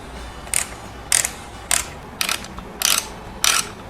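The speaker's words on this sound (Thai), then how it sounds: "สุดท้ายเราก็ทำการขันน็อตนะฮะทั้งสองฝั่งซ้ายขวา" Bolts on a Kijima USB mount for a Honda CT125 Hunter Cub are tightened with a ratchet: six short bursts of clicking at an even pace, loud and close, with quiet pauses between them.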